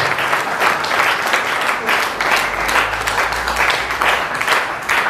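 Sustained applause from an audience at a religious assembly welcoming saints, a dense, even wash of many hands clapping steadily throughout.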